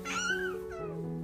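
An indoor cat lets out one close, clear meow with a rising then falling pitch, heard alone.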